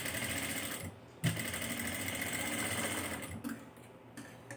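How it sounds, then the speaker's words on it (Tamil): A sewing machine runs steadily, stitching piping onto the neckline of a baby dress, with a brief pause near the middle before the continuous motor whir and needle chatter resume close up and fairly loud. "இந்த பைப்பிங்கில் வந்து 1/4 இன்ச்சு வெளியில் கொடுக்கணும், பிடிச்சி தைக்கணும், அவ்வளோதான்."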